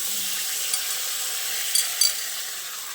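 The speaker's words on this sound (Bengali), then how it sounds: "এবার আমি যে সবজিটা ম্যারিনেট করে রেখেছিলাম সেটা এর মধ্যে দিয়ে দিচ্ছি" Marinated cauliflower goes into a pan of fried onion and gram flour and sizzles steadily, with a soft constant frying hiss and a couple of brief stirring clatters near the end.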